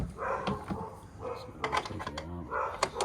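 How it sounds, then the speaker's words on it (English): A neighborhood dog barks several times in the background while someone speaks briefly nearby during an outdoor van repair. "sorry about the dog barking in the background"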